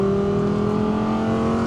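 Audi R8 V10 supercar engine holding a loud, steady drone while driving through a turn section, continuous throughout with no pauses and no talking.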